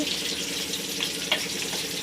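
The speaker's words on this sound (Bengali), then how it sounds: "বিরিয়ানির মাংস ভাজা হচ্ছে" Meat for biryani fries in a pot in a home kitchen. A steady, close sizzling hiss continues throughout, broken by a few faint crackles and pops.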